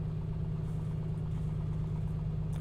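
The simulated piston engine of a Comanche 250 in the A2A flight simulator drones steadily with a deep low hum and a faint higher buzz, constant and moderately loud, no voices.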